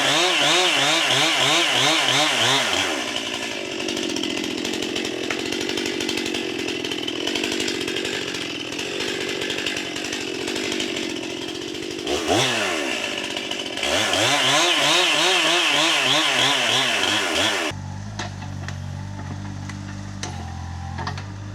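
A chainsaw cutting down a tree: loud revving bursts near the start and middle, then long steady cutting at full throttle, ending in a lower idle, close and without talking.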